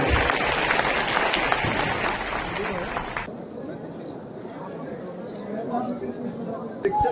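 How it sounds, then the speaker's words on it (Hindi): An audience at the Pusa agricultural science fair 2025 breaks into dense applause for three seconds. The applause then cuts off sharply, leaving low crowd murmur and voices. "एक बार ताली बजा के किसानों का स्वागत करें।"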